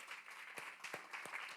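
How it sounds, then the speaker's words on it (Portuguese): A church congregation claps during a worship service, a quiet, sparse patter of a few distinct claps at a distance over low background noise. "Vamos aplaudir Jesus"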